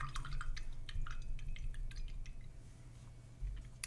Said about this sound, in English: I'm gonna wash my brush.